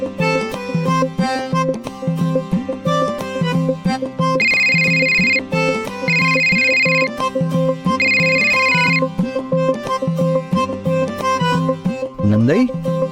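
A phone rings with an incoming video call, a repeating electronic ringtone chiming in steady bursts over continuous music in a Marathi TV drama scene.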